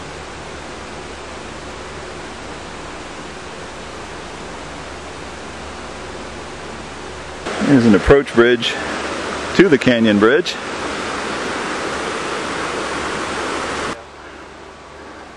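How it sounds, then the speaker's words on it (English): Continuous rushing water from a branch of the Sable River in the Adirondacks, a steady broad hiss that grows louder for several seconds while someone talks over it, then drops back. "Across one of the branches of the Sable River."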